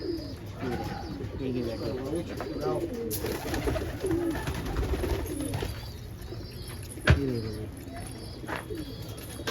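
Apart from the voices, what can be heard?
Lalpare laldum pigeons cooing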